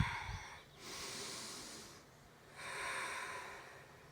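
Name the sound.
deep breathing during a seated yoga twist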